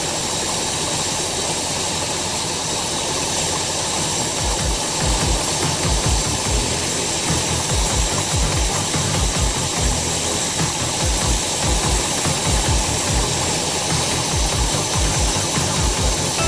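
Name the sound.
1966 Ford engine idling with AC and fan on full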